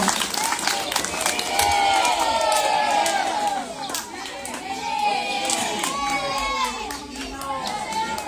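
Children clapping for a classmate named Dino during a group exercise session, scattered hand claps mixed with excited young voices and chatter, lively and fairly close.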